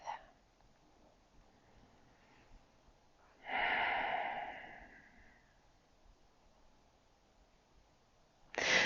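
A person lies on their back in a relaxed yoga pose, legs crossed, hands on hips, taking a slow, audible breath that swells and fades, with short breath sounds at the start and end of otherwise quiet stillness.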